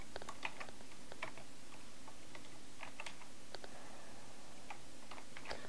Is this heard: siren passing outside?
no